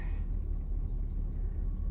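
Truck engine rumbling steadily from inside the cab as it drives around, a continuous low road drone with no pauses.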